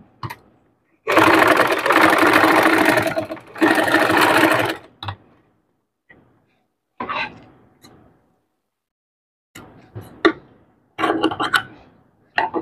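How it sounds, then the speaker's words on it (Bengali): A sewing machine double-stitches a sleeve cuff in two long, steady whirring runs, followed by short stop-start bursts of stitching separated by quiet pauses. "হাতার মুহুরিতে সবসময় আমরা ডাবল সেলাই দিব।"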